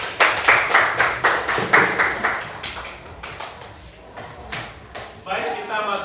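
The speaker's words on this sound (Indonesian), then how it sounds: "Dan aplaus untuk kita semua" A classroom group claps in quick rhythmic bursts that gradually thin out and fade, with voices continuing over the end.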